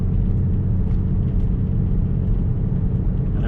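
A Lexus GS300 cruising over bumpy roads, heard from inside as a loud, steady low rumble of engine and tyres with no talking.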